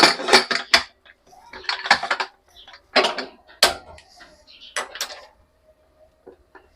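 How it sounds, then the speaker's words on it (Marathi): A home cook in an Indian kitchen fitting and locking the lid onto a pressure cooker before a dal-rice meal, giving a series of loud metallic clanks and scrapes in separated bursts, close and clear, with occasional quiet speech between them. "हे बघा, आता कुकर बंद करते."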